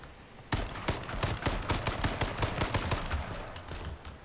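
Rapid gunfire in the battle-royale game H1Z1 King of the Kill, a loud burst of closely spaced shots starting abruptly after a quiet moment and continuing in an uneven rattling stream.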